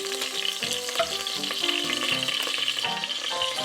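Small pieces of meat sizzle and fry as they brown in a pan, a steady crackling spatter with occasional stirring clatter running throughout, close and fairly loud with no talking.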